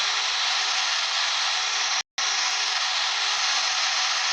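Loud, steady broadband engine roar of a Cessna 172 Skyhawk cockpit in the X-Plane 10 Mobile flight simulator fills the clip, briefly cutting out to silence midway before resuming.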